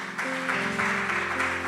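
Church congregation applauding together during a worship service, a steady broadband wash of clapping with sustained music tones underneath.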